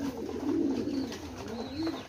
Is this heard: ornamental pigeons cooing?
yes